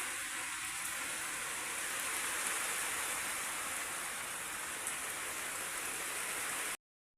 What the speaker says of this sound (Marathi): बाहेर पाऊस बघा किती जोरात चाललाय हे बघा कसला जोरात पाऊस चालू आहे